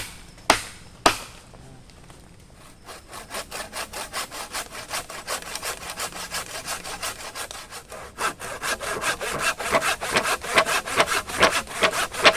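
A hand saw cuts through wood at a rainy riverside campsite, opening with a couple of sharp knocks before a steady run of rasping back-and-forth strokes that grow louder and quicker toward the end.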